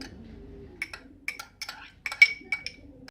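Ground green moong dal batter being mixed with spices in a bowl for vada, giving a run of light clinks and scrapes of a spoon against the dish, close and fairly quiet, with a faint voice at the start.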